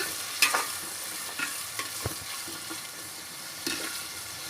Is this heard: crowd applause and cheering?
no